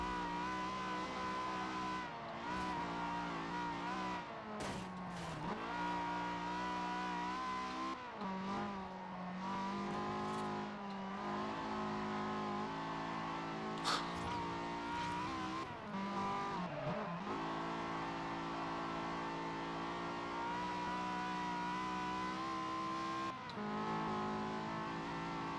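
A very loud car engine roars through a race in Forza Horizon, with steady high revving, gear shifts and brief tire squeals, close and continuous throughout with no talking over it.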